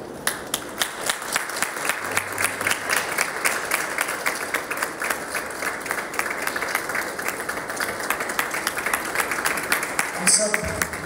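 Steady applause from an audience at a 37th ordination anniversary celebration for a priest, many hands clapping continuously and evenly for about ten seconds, fairly close, ending with a brief clatter.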